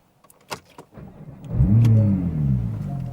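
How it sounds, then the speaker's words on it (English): Porsche 911 Turbo S with a custom exhaust starts and revs up from inside the cabin, a deep swelling engine note rising then holding, loud and near, after a few clicks and knocks. "one of the first things you notice in this car is obviously the exhaust"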